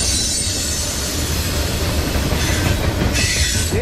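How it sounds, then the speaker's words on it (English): A Norfolk Southern ethanol freight train rolls past nearby with rumbling wheels, rhythmic clacking over rail joints, and occasional metallic squeals. "looks like another ethanol train"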